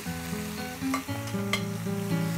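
Tomato paste sizzles as it drops into a hot pot with thyme, a steady close frying hiss under stirring and faint clinks, with no talking.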